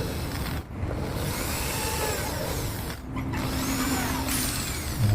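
Power drill boring a pilot hole into wood for a wooden leg-stretching stand, a steady continuous whirring grind running for several seconds with two brief dips, close and fairly loud with no talking.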